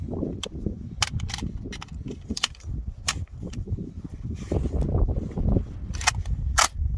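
Hellfire Stealth cap-firing gun fired repeatedly, giving sharp, near snapping cracks at irregular intervals over a steady low rumble of background noise.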